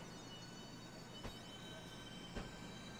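A Class 395 Javelin high-speed train on the London to Faversham HS1 route gives a faint, steady rumble with a constant hum, broken by two soft clunks a second apart.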